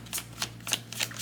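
Tarot cards being shuffled by hand, close and crisp, in several quick riffling bursts over a faint steady hum.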